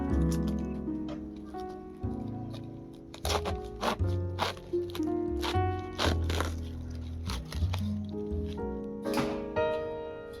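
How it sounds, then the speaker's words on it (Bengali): A knife chops through cabbage on a board, giving a run of crisp, close crunches and taps in an uneven rhythm over a steady low background. "প্রথমে আমি বাঁধাকপিগুলো কেটে নেব"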